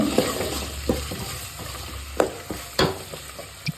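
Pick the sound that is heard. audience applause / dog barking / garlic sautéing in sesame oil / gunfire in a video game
garlic sautéing in sesame oil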